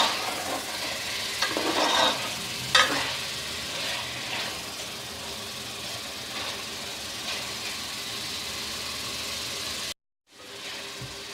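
Chicken karahi frying with crushed red chillies while being stirred, a steady sizzle with scraping stir strokes throughout, briefly cutting out near the end before resuming.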